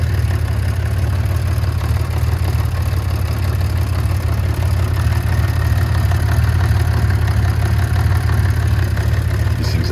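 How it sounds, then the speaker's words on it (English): A 1980 Honda CBX motorcycle with freshly adjusted valves, synced carburetors and a ProLink clutch idles steadily, its low, even engine note running unbroken and fairly quiet with a faint mechanical clatter. "These things always sound like a clatter on these videos, but this is really a pretty quiet CBX, especially with that ProLink clutch."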